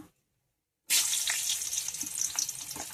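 Brinjal slices hit hot oil after a near-silent pause, bursting into a loud, close sizzle that stays steady with small crackles and spits, no talk.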